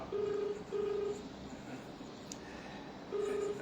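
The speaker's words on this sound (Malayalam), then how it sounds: "ബെല്ലടിക്കുന്നുണ്ട് എടുക്കുന്നില്ല" An unanswered phone call's ringback tone sounds as a steady mid-pitched double beep, then a pause, then the pattern begins again, clear over faint background hiss.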